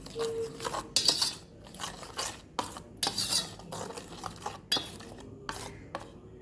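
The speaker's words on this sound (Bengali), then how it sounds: "এবার মশলাটাকে ভালো করে মিশিয়ে নেব" A spoon stirs and scrapes a spice paste of green chilli and cumin powder in a metal bowl for ilish bhapa, with irregular clinks and gritty rubbing strokes, close and without talk.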